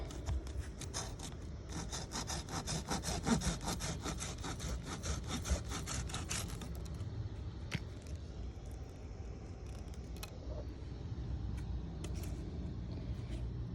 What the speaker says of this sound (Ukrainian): Принесла я пилку і буду обрізати це стебло.